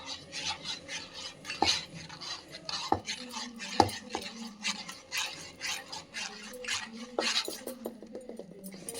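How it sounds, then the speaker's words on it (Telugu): Wheat and rice flour batter mixed by hand in a bowl, a soft continuous sloshing and squelching with scattered light clinks of a utensil against the vessel, close and fairly quiet. "పిండి కలుపుకోవాలండి, కొంచెం వేసుకుంటా"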